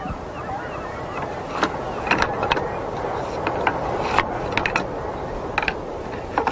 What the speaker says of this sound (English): This is the Polybolos, the multi-shooter. It's the first machine gun